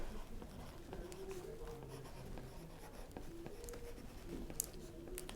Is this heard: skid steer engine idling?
no